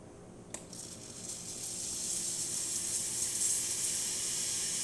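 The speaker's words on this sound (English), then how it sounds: "It's just a steamer." Steam wand of a Breville Oracle Touch espresso machine hissing steadily and loudly, a short click near the start and then a continuous broadband rush that builds slightly and holds.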